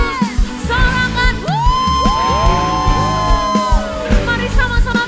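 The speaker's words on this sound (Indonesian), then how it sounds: "Sekali lagi kasih tepuk tangan yang dahsyat buat Tuhan Yesus." A church congregation at a worship service cheers and whoops loudly for Jesus, with sustained shouts and rising yells from many voices in a large hall, close and full.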